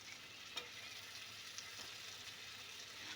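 Chicken curry pieces fry in spice masala with a faint, steady sizzle and a couple of soft clinks from stirring, quiet and continuous with no talking.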